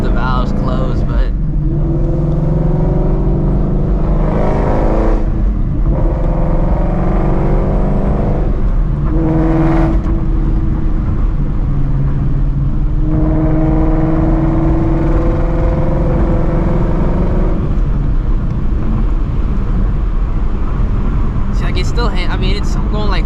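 A Shelby GT350 Mustang driven at night on winding roads with its exhaust valves closed, the engine a loud continuous drone that rises and falls with throttle through the turns, with talk over it throughout.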